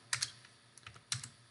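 Keys clacking on a computer keyboard while a date is entered into a spreadsheet cell, a few quick clustered strokes followed by a short pause and another burst, close and clear.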